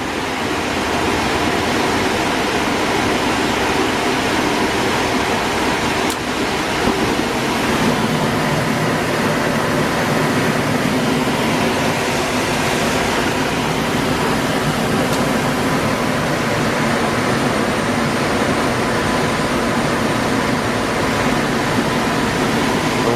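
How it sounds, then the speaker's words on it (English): Evergreen ECM blower motor in a two-stage Goodman furnace running at heating speed, giving a steady, loud, unbroken whooshing rush of moving air throughout. "so now we've got a call for heat, so it's ramping up the motor. So I'm at heating speed now"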